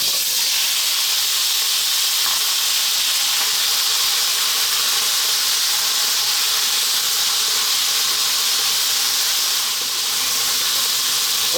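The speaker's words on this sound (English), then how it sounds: "We're going to drop in our cumin seeds and then our potatoes, and we're going to fry these for about 4 minutes." Cumin seeds and potatoes fry in hot oil in a pan while an Indian potato curry is cooked, giving a steady, loud hiss and sizzle that runs unbroken and fairly even throughout, with no talking.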